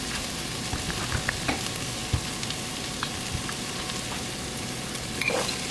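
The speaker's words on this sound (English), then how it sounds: "Gonna give that a nice stir." Diced green bell pepper and onions sizzle steadily in hot olive oil in a pan, with a few soft scraping clicks as they are stirred, continuous and close with no talking.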